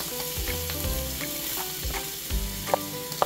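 Garlic sizzles steadily in a hot pan while cooking ginisang munggo, mung beans sautéed with cabbage, with occasional clinks and stirring scrapes over a continuous close frying hiss.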